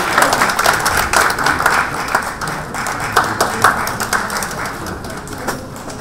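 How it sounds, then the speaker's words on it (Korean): Moderate applause from attendees welcoming a lawmaker at a political forum on local election results, a steady patter of many hands that swells early, then thins to scattered claps. "큰 박수로 맞아주십시오."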